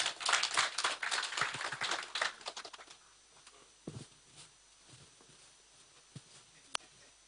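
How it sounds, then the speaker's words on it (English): Clapping from an audience at an education forum session, fairly loud and brisk at first, then thinning out after a few seconds to a handful of scattered claps and small knocks in a quiet room. "With a round of applause, please."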